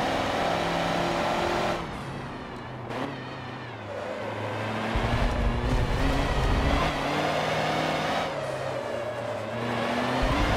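Racing trucks in Forza Motorsport 7 roar steadily through a race, engines revving and shifting in loud, continuous waves with occasional drops in pitch between bursts of acceleration.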